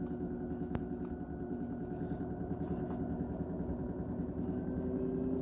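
An engine generator runs at increased RPM with a steady, droning hum full of low harmonic tones. The hum stays loud and constant, with a brief click near the start.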